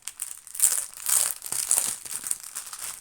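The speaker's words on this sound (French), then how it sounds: "Désolée pour celles et ceux qui n'aiment pas le bruit du papier." Paper sticker sheets crinkle and rustle in short bursts while being handled during an unboxing, close and crisp, with brief pauses between the handling sounds and no talk over them.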